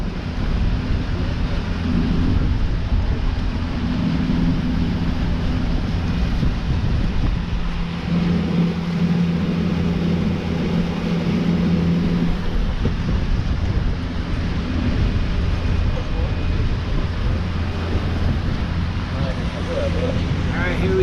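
Low droning hum of a boat's motor on the Madre de Dios River in the Peruvian Amazon, steady and close, with wind buffeting the microphone and faint water wash throughout.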